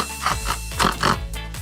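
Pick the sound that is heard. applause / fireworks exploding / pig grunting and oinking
pig grunting and oinking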